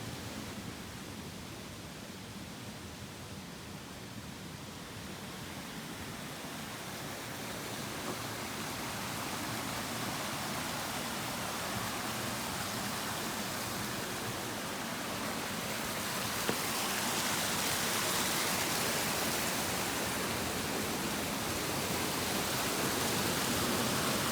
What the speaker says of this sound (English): Let's go take a look at the waterfall, the Manistee River Trail.